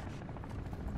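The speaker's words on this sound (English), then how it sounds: "Attack helos on me." An attack helicopter in the Call of Duty MWIII campaign throbs with rapid rotor beats, a close, continuous low chop that fills the whole brief moment.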